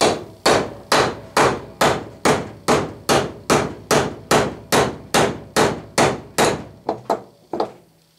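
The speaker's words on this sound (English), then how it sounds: "drive this 3/16 roll pin in there" A 3/16 roll pin is driven into a mill arbor for a Clausing mill with about seventeen steady hammer blows, each a sharp metallic strike with a short ring, close and loud, ending in a few lighter taps.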